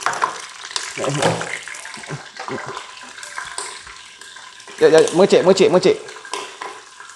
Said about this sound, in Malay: Serai tadi kita tumis goreng dululah serai ni.